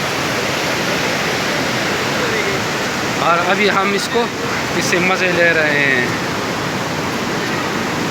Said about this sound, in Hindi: बहुत ही ख़तरनाक पानी, इसमें मछलियाँ भी है।